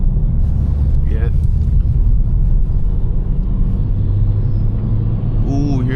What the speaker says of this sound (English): That turbo sound nice in here.